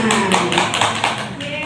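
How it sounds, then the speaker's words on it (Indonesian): A group claps hands in a school session, with a few distinct rhythmic claps in quick succession and voices audible alongside. "Tepuk tangan."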